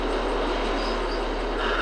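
Train moving in and out of a station, a steady broadband rumble and rush at moderate level, continuous and without breaks.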